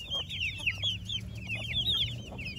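Brahma hens clucking and chattering close by, a steady run of overlapping soft clucks over a low background hum, with no talking.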